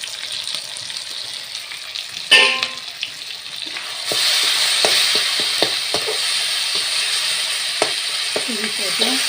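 Tomatoes and slit green chillies fry in hot oil for an Assamese fish curry, a loud steady sizzle that swells midway, broken by sharp clinks and scrapes of a stirring spoon.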